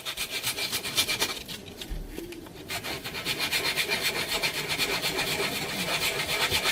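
Hand wet-sanding a wooden picture frame with steady back-and-forth rubbing strokes, close and rhythmic, briefly pausing before resuming at an even pace.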